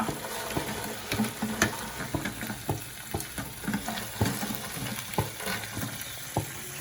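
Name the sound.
deep-fried paneer added to the pan, sizzling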